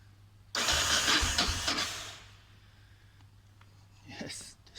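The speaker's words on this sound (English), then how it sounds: "the starter motor is running, but it's not starting yet" A Yamaha XT600e motorcycle's starter motor cranks loudly for about two seconds without the engine catching. The whirring then fades, followed by quieter mechanical clicks and a brief softer burst near the end.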